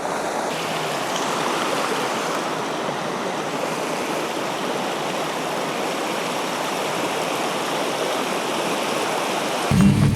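A rocky river's current rushes steadily over stones, a broad even wash of water that stays close and constant throughout, with a short low thump right at the end.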